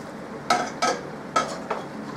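Soup ingredients going into a bigger pan, with four distinct clattering knocks and scrapes of utensil against metal cookware, close and fairly loud, evenly spaced within about a second and a half.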